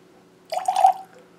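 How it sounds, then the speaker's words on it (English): A small splash of water poured into a glass of peated single malt whisky, a brief close trickle and drip lasting under half a second against a quiet room. "now, as is tradition, we add a little splash of water"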